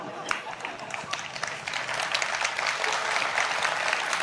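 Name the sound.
audience applause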